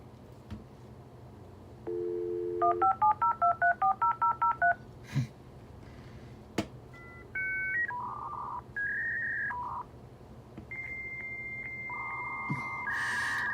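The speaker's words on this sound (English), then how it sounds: "Yes, dial-up tone." A dial-up connection sequence plays over a quiet hiss: a steady tone, a rapid run of touch-tone dialing beeps, then stepped handshake tones and warbling bursts, moderately loud and alone.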